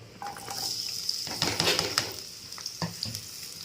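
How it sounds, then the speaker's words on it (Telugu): Onion and grated coconut fry in oil in a kadai, crackling with a bright, busy sizzle close by, with a few spoon scrapes through the mix. "ఇది కొద్దిగా కలర్ వచ్చే వరకు ఫ్రై చేసుకోవాలి ఆయిల్లో"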